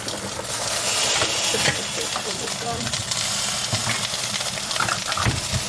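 A pot of rice water comes up to a boil, giving a continuous close hiss and bubbling with scattered small pops and clinks, steady throughout and with no voices.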